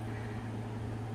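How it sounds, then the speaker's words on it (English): Air purifiers running indoors in a kitchen, a steady low hum with a soft airy hiss, constant and unchanging in the background. "Well, sorry about any noise in the background. We have purifiers going"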